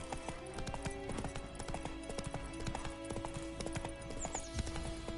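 Roach, a horse in The Witcher 3, runs with steady, rapid hooves clip-clopping close by, a brief whinny-like tone and faint game ambience beneath, no talking.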